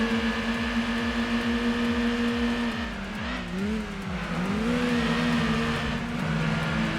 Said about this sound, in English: That engine you've got there sounds horrible, Skyline. That Lancia sounds worse.